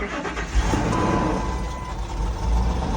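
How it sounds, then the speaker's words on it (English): A 2000 Ford or Lincoln car engine cranks and catches, then runs steadily with a broad, constant rumble over a faint tonal hum for several seconds, with no talk. "Now I'm going to start the car."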